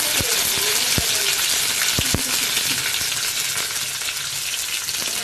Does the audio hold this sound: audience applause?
no